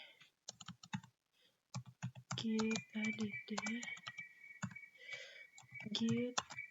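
Computer keyboard keys clicking in quick bursts and short runs while git commands are typed, close and fairly loud, with a person speaking over parts of the typing.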